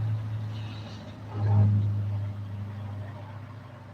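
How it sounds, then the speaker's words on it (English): Honda car with an automatic transmission idling high, a steady low engine drone with a brief swell midway, heard close with a faint voice over it. "It is high, idling pretty high."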